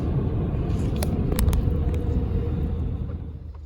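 A car pulls away from an automatic car wash and drives off, a steady low engine rumble with road noise held close throughout and a few faint higher clicks above it.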